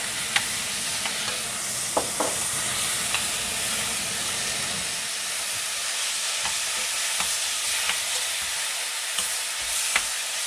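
Vegetables and meat stir-frying with tomato sauce for a tortilla sandwich filling, a steady close sizzle with scraping stirs and occasional clicks of a utensil against the pan, the sizzle easing partway through.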